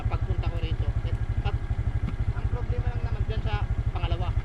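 A motorcycle engine runs steadily with a pulsing low rumble while moving through a flooded road, loud and close throughout, with clatter and people talking over it.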